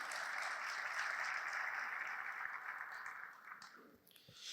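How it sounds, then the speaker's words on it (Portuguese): Applause from a church congregation, a sustained fairly faint patter of many hands that thins out toward the end as a few louder individual claps and stray sounds break through. "Dá uma forte salva de palmas a Jesus."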